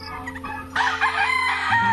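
A loud, close bird call bursts out after a brief pause, a rapid warbling gobble that carries on for over a second.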